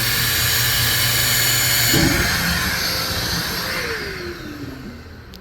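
A loud blower pushes air out through a swimming pool's main drain lines, a continuous roaring whoosh that shifts in tone partway and then eases down slightly.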